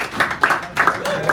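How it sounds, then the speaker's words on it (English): A café audience at a poetry reading gives a few uneven bursts of clapping, light and brief rather than a full ovation, with voices talking over and between the claps. "Give her a nice round of applause."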